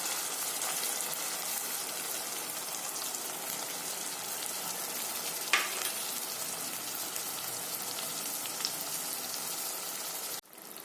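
Spice paste sizzles in a hot pan while cooking rohu fish with coconut, a steady dense hiss like heavy rain that runs almost unbroken and fairly close, with no voices over it.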